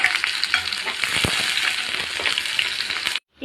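Crushed garlic and onion fry in a pan, giving a continuous close sizzle with stirring scrapes and clinks, then stopping abruptly just before the end.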